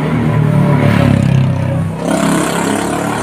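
A motorbike passes close by, its engine rising to a loud rough growl and then fading away after a couple of seconds, with no talking.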